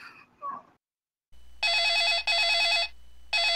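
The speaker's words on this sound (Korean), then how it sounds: "또 전화가 오네?" A telephone rings in a Minecraft family role-play scene, sounding in loud electronic trilling bursts separated by short pauses, following a brief stretch of faint voice and silence.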